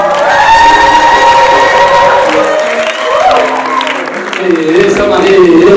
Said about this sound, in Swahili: Wapi kelele, wapi makofi yao?